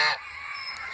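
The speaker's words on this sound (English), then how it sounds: "And here we have a goose and a couple ducks." A goose honks loudly in a short burst at the start, followed by quieter nasal calls in a backyard with ducks and chickens nearby.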